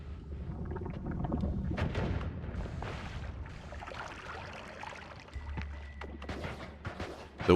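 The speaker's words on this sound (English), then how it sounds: "Just kind of shooting and everything's just bouncing all over the place" In the video game Noita, shots fire off and bounce around amid a busy, rumbling jumble of impacts and bursts, with a dense crackling texture throughout and a steady low drone starting later on.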